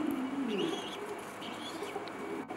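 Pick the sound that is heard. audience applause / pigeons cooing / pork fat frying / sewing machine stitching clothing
pigeons cooing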